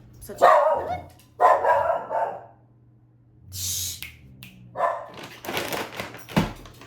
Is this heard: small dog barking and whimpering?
yes